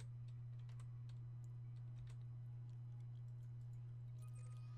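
Faint keyboard typing from an Elite: Dangerous galaxy map session, scattered soft key clicks over a steady low hum, no voices.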